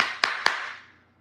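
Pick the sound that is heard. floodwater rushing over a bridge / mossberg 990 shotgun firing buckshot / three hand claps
three hand claps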